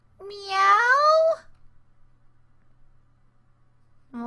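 A single drawn-out cat meow in the game Misao, clear and close, rising then falling, followed by silence and the start of another sound at the very end.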